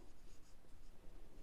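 Pen scratching across paper while working a Class 9 algebra ratio problem, a steady, close, continuous writing scrawl with no talk over it.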